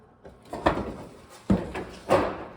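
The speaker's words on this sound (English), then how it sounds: "The door lock works." An interior entry door lock on a Shasta camper being worked, giving three distinct mechanical clunks and latch knocks spaced about a second apart, close and fairly loud with no talk.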